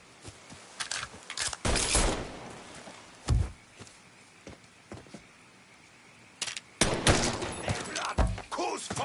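Gunfire in the Mafia 3 video game, with bursts of rapid shots around two seconds and again near the end, plus scattered single shots in between. Shouted voices carry over the shooting.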